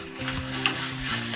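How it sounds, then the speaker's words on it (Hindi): Garam masala powder stirred into a sizzling ghee tadka of tomato and onion for dal gives a brisk, close frying hiss with light scraping of the spoon, steady and alone. "अब इस स्टेज पर मैं डालूंगी आधा टीस्पून गरम मसाला पाउडर और कर दूंगी अच्छे से मिक्स"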